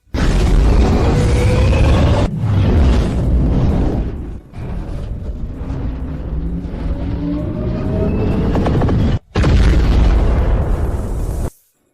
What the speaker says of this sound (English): Main cannon charged, fire.